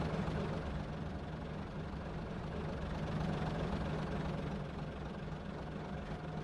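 Class 50 diesel locomotive idling in a train simulator, a low, steady, faint engine drone with a constant hum and no change in pace.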